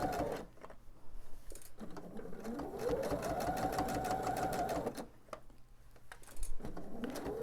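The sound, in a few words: sewing machine stitching quilt binding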